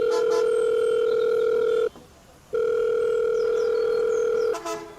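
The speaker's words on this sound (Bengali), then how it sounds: "সিকিউরিটি ফোন লাগালো 324 নম্বর ফ্ল্যাট মিসেস মল্লিকের কাছে।" A telephone call from a building's security desk to a flat rings out as a loud, steady electronic ringback tone, broken by one short pause before the tone resumes.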